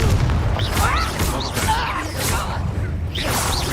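Confringo fire spell bursts in Hogwarts Legacy, a dense run of booming blasts and whooshes with crackling debris, loud and layered with a voice casting spells over the action.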